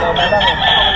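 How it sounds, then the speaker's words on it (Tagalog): A rooster crowing at a poultry market in Bocaue, a loud close crow sustained for the full second, bright and strained, with no talk over it. "pakita natin yung manok ni Bossing"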